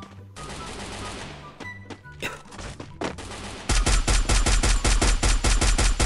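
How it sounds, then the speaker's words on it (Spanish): Rapid gunfire in the video game Free Fire, scattered shots at first, then a loud, sustained burst of automatic fire; voices are faintly heard. "Guarayan, otra vez con los tiros falsos, bro."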